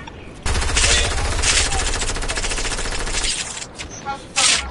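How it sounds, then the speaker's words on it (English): Squad video game gunfire: a sustained burst of rapid automatic shots lasting a few seconds, then scattered fainter reports and a final short burst, loud and close. "Who's shooting?"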